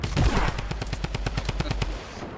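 Rapid bursts of automatic gunfire in a battle-royale video game, a steady rhythm of sharp evenly spaced shots for about two seconds, loud and close, with no talk over them.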